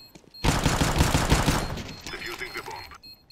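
Rapid automatic gunfire in a video game erupts in a loud burst of closely spaced shots, followed by a quieter scatter of further shots and clatter before cutting off.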